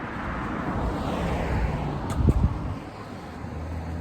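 A car rolls past on a busy street in Thousand Oaks, California, a broad steady road rumble with wind buffeting, swelling briefly mid-clip as it goes by.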